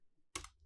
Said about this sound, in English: You can hit tab on the keyboard and start typing the name.